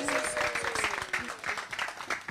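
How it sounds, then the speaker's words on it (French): Audience applause for a dance performance, a steady wash of clapping running through the whole stretch, with a faint voice or tone drifting underneath. "Applaudissez-là, s'il vous plaît."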